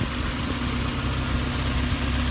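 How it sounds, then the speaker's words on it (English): A Mazda Miata NA with its 1.8 engine idles steadily on fresh oil, a close, even low rumble with constant vibration throughout and no talk. "While the engine warms up"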